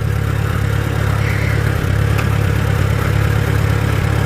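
A Farmall tractor engine runs steadily while plowing a field, a loud, continuous low rumble with an even throb and no talking.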